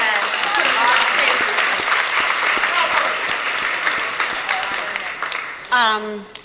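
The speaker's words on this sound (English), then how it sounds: "So give her a round of applause." A round of applause from an audience at a civic honors event for a sorority, sustained dense clapping that tapers slightly before a person begins speaking at the end.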